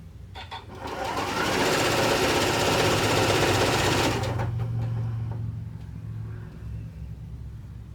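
A sewing machine stitches quilt strips in one sustained, loud run of about three seconds, then winds down into a lower lingering hum and quiet handling sounds.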